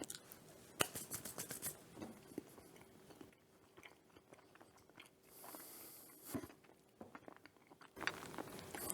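Crunchy chewing of a lime pie truffle with a graham cracker crust, faint close bites and mouth sounds in irregular bursts against a quiet room.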